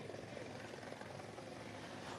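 A Bell 412 helicopter flies during a military commando fast-rope insertion exercise, its rotor and engine making a steady, faint broadband whir with no break over the short span.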